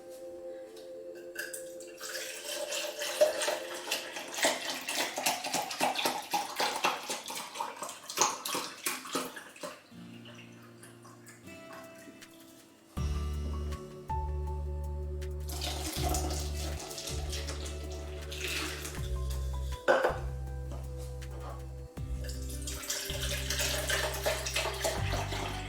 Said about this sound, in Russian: Дополню все это молоком 800 миллилитров.